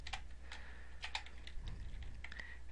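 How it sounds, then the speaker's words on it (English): Soft, quick computer keyboard typing, a rapid run of light key taps close by with no talking over a low background hum. "So I'm just going to type in the function name if and open parentheses."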